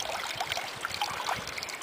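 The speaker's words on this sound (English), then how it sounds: "Just let him drip for a few seconds here." Water trickles and drips steadily off a deer skull just lifted out after soaking overnight, a continuous soft patter close by with no one talking.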